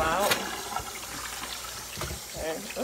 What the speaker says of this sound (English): Kind of let some of the water drain